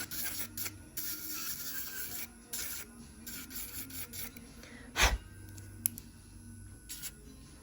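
Electric nail file at about 10,000 RPM smoothing gel infill on full cover tips, a soft continuous rubbing rasp with brief pauses, close and fairly quiet, with one sharp knock partway through.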